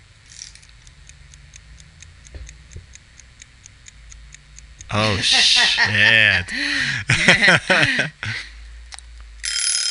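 A kitchen timer ticks steadily and quietly for about five seconds, then rings loudly with a sustained bell, and people talk and exclaim over the ringing.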